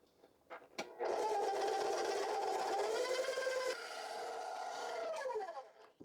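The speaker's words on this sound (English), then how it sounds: "I'm going to mix this until everything is incorporate" An electric hand mixer runs steadily through cookie dough with vanilla, a faint whirring hum that starts with a brief knock and keeps a sustained motor drone before winding down.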